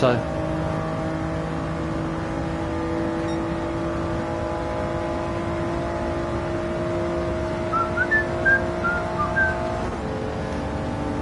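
A car engine cruises down a front straight in Gran Turismo 7, a steady in-car drone with held tones and a brief rising whine toward the end, while a voice talks over it.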